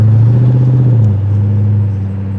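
A V8 car engine at a car show burbles loud and close with a deep, steady low rumble that eases down in pitch partway through, no voices.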